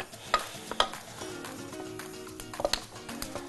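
Spices including black pepper toast in a pan with a soft, quiet sizzle, punctuated by several sharp taps and scrapes of stirring, alone without talk.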